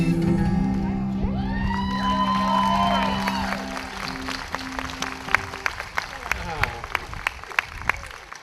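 A street magic show crowd claps in a steady series of sharp, evenly spaced hand claps after music fades, with voices present over the applause.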